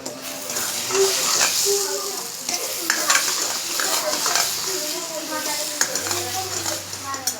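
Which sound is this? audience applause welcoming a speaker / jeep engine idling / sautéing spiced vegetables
sautéing spiced vegetables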